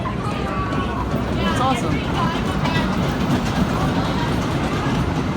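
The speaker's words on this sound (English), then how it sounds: "So you've got like the train rolling out here." A roller coaster train rolls out of the station at a Valleyfair amusement park ride, giving a steady rumbling clatter of wheels on track under crowd noise and a person speaking nearby.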